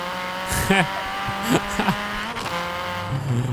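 A 2016 Mini Cooper S (F56) engine in Forza Horizon 3 revs steadily with brief crackling exhaust pops between gear shifts, several quick bursts spaced apart, loud and close.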